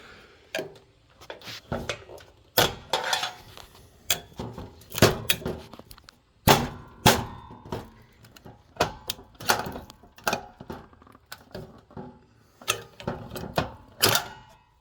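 Flathead screwdriver prying ballasts out of an old fluorescent light fixture: a series of sharp metallic clanks, scrapes and clicks in irregular bursts, close and fairly loud, with no talking.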